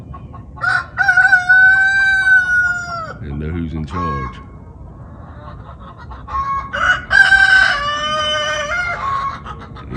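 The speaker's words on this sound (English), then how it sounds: "He a rooster." A rooster crows twice outdoors, each call a long, loud, close cock-a-doodle-doo with gaps between, while someone talks over and between the crows.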